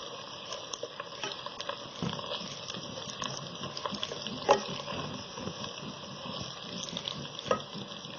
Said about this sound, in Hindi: अब इसमें हम जीरा ऐड करेंगे 1 टीस्पून। 2 मिनट तक इसे फ्राई करेंगे